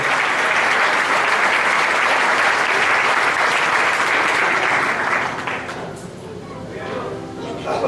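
Loud, sustained applause fills a large evangelical church gathering for several seconds, then drops away abruptly, leaving crowd murmur and a voice speaking before the noise swells again at the end.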